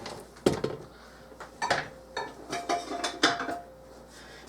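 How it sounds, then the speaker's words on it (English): A scraper knocks and scrapes around the sides of a stand mixer bowl of thumbprint cookie dough, giving about eight separate clanks and scrapes, close and fairly clear, with short pauses between them. "Then we're going to scrape down the sides."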